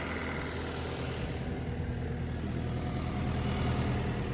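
A 2017 Takeuchi TL12V2 skid steer idles steadily up close, its diesel engine holding an even, continuous low rumble with no voices over it.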